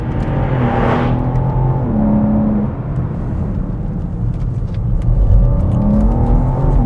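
A BMW M3 Touring's engine revs and accelerates close by, pitch climbing in surges after slight turbo lag, with a steady rumbling drone underneath.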